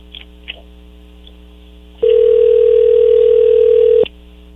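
A steady telephone dial tone sounds for about two seconds while a call is being placed, preceded by faint handset clicks and followed by a click as it cuts off; it is clear and loud and no one speaks.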